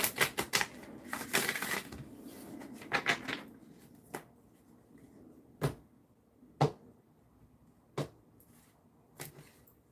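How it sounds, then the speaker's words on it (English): Tarot cards are shuffled in quick riffling bursts early on, then a series of separate sharp taps and slaps as the deck is cut, close and quiet with no talking. "I'm going to shuffle 3 times and then cut the cards"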